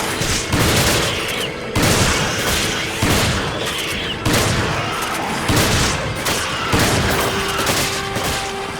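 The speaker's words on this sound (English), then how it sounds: "for some reason, several shotgun bullets and it has still not died" Shotgun blasts in the video game Resident Evil 5, a series of loud booming shots spaced about a second apart, each with a heavy thump and decaying tail, fired repeatedly across the stretch with no talk.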